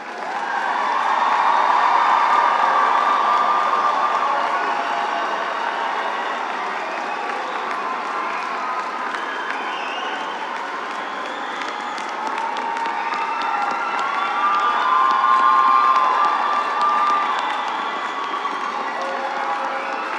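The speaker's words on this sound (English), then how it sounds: "Please join me in a round of applause for all the graduates." A large crowd at a college commencement ceremony applauds steadily for a long stretch, with cheers and whoops rising over the clapping now and then.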